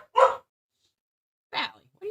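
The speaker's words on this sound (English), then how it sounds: "Valley, what are you barking at?" A dog named Valley barks in an underground garage where car parts are being worked on: two short, sharp, fairly close barks separated by a pause, with a voice beginning at the very end.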